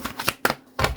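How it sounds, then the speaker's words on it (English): A deck of tarot-style cards is shuffled by hand in a few quick riffling bursts, close and crisp, with short pauses between them. "And I'll just do 2 more shuffles"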